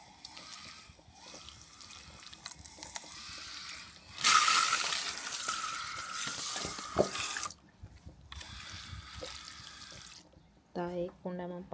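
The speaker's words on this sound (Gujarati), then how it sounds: "થોડું પાણી રેડવાનું છે હમણાં" Water pours into tulsi plant pots in a close, hissing splash lasting a few seconds, followed by softer intermittent trickles, with a voice briefly heard at the end.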